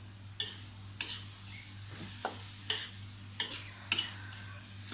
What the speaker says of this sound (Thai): คนไปเรื่อย